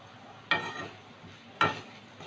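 Potatoes and onions frying in a pan with cumin and Kashmiri chilli powder, a soft sizzle under two sharp bursts of stirring scrapes about a second apart.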